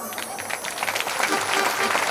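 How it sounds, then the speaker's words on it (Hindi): A seated crowd claps at a Shrimad Bhagwat Katha religious discourse, a brisk, busy patter of many hands that grows a little stronger toward the end, with a voice faintly underneath. "ताली मरी हुई मत बजाओ"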